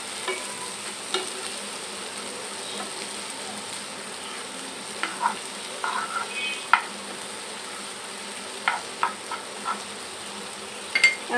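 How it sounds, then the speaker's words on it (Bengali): Chopped snake gourd is stirred into egg in a frying pan, with a soft steady sizzle under scattered spatula scrapes and taps that grow more frequent toward the end, close and with no voices. "ডিমের সাথে চিচিঙ্গাটা ভালোভাবে মিশিয়ে নিচ্ছি।"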